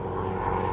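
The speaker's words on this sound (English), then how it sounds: "a helicopter in the sky" A helicopter flies overhead near a railway platform in Meadowbank, Sydney, a steady droning engine and rotor hum, fairly loud and continuous in a brief stretch.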